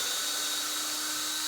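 Power drill driving screws upside down while a rabbit hutch is being built, giving a steady, close, continuous whirring whine with no breaks.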